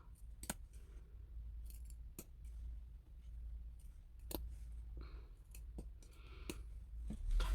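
Scissors snip notches into the curved seam allowance of a quilted jacket's hood facing, giving a series of crisp, irregular cuts over a low steady background hum with no talking.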